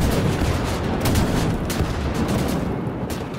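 Rapid grenade launcher blasts and gunfire in the Berlin catacombs of Wolfenstein: The New Order, a loud continuous barrage of booms and cracks with no speech.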